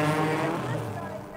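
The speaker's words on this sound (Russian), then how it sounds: "волнующий чудный шум моторов" Racing car engines roar on a track in a radio play, a dense sustained mechanical drone with loud, steady intensity that slowly fades over about a second and a half.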